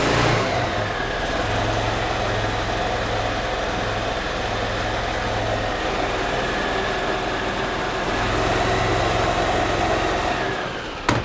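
The gas engine of a 2008 Yamaha Drive golf cart, raised on a lift, starts and runs at a steady idle, a loud low drone with a slightly varying pulse, close by.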